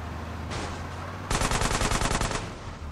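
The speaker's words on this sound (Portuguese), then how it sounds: "Nossa, eu atirei no guarda, mano." Gunfire in the video game GTA San Andreas: a short burst, then a rapid automatic volley of a dozen loud, evenly spaced shots lasting about a second and a half.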